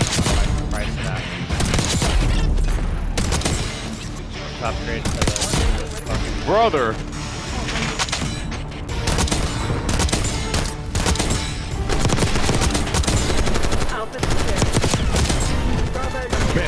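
Call of Duty: Black Ops 6 gunfire runs as dense, loud bursts of rapid automatic shots almost throughout, with someone talking over the firing.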